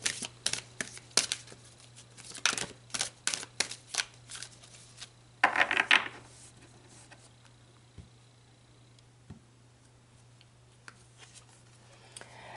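Tarot cards being shuffled, a quick run of crisp riffling flicks and slaps close by, then quieter single card draws and a few soft taps, with no one talking.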